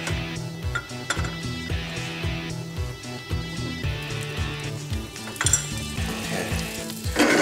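Butter sizzles steadily in a pan while Granny Smith apples are sautéed, a continuous close frying hiss broken by clinks and scrapes of utensils against the cookware.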